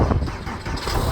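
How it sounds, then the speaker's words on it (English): A 2002 Porsche 911 Targa cranks and fires up, a brief burst of engine noise turning over into a steady, fairly loud low running note with no talk. "I'll give it a crank. Let's listen to it start."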